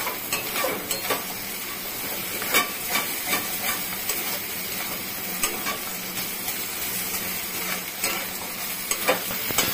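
A spatula mashes soft cooked teasel gourd in a pan for a nonveg kakrol mash. Repeated short scraping and pressing strokes come at an uneven rhythm over a constant low steamy hiss and sizzle, with no one speaking.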